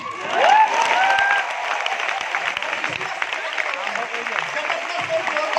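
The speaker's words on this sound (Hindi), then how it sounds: "ताली बजाओ, गरीबी रेखा भी मिट जाएगा" Audience at a diamond-leader motivational speech breaks into loud, sustained clapping that swells early and then holds steady, with crowd voices mixed into the din.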